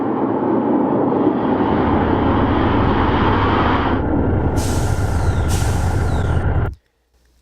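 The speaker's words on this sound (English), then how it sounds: "are actual recordings of jet engines combined with vacuum cleaners and diesel trains." A designed sci-fi dropship jet sound blends jet engine, vacuum cleaner and diesel train recordings into a loud, steady roaring whoosh, with a hissing high burst midway before stopping abruptly.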